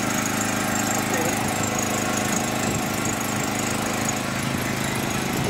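A 3000 W generator engine running under a 2000 W load, giving a steady close mechanical drone with a faint high whine throughout.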